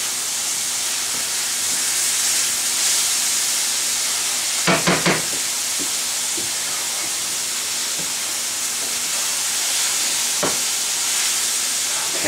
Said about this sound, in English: So we're going to keep sauteing this.